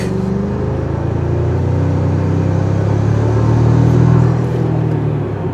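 A 2025 Toyota Tacoma Trailhunter hybrid pulls hard, its engine a loud, close, steady drone that rises gradually in pitch and volume as the truck accelerates, with no talking.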